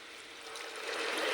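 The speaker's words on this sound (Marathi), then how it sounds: "त्याच्यामध्ये आपण पाणी टाकू।" Water is poured into a pot of moong dal khichdi, a brief, steady splashing stream that grows slightly louder near the end.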